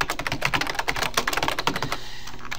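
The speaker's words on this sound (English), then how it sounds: "you can type anything that you want here." An announcement being typed on a computer keyboard, heard as rapid, close, crisp key clicks in a fast, irregular rhythm that stop briefly near the end, with no speech.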